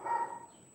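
A dog's single short bark or yelp, fairly faint and distant, fading out quickly in a quiet room.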